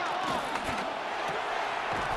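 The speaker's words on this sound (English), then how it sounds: "The Arrowhead crowd in full roar." A stadium crowd at Arrowhead roars steadily in Madden NFL 26 American football play, a dense continuous wash of noise with faint commentary-like voices underneath.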